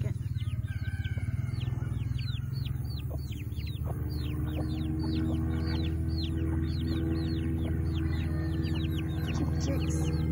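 Black Copper Maran chickens make repeated short calls and clucks over a steady low hum, with many overlapping bird voices close by throughout.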